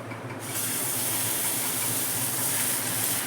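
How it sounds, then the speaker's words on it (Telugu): Thick jowar dosa batter hits a hot pan and bursts into a loud, close, continuous hiss and sizzle that holds steady for a few seconds, with no talking. "పెన్నం పైన మనం మంచిగా జొన్న దోశ వేసుకుంటాం"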